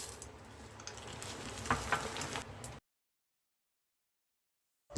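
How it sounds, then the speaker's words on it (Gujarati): Poha (flattened rice) frying in hot oil, a soft steady sizzle with a few stirring scrapes for almost three seconds, then the sound cuts to silence. "એ જ રીતે આપણે બીજા પૌવા પણ તળી લઈશું"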